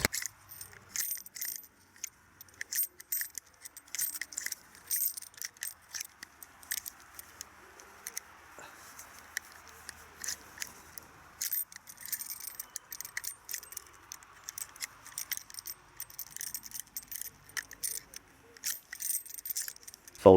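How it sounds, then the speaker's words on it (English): Metallic clicks, rattles and small clinks come from a Nagant M1895 gas seal revolver as its ejector rod is worked and cartridges are pushed out one at a time. The sounds are close, irregular and fairly faint, spread over about twenty seconds. "to unload it, it's not quick at all. Rotate the rod, pull it up, twist it round, and then one at a time"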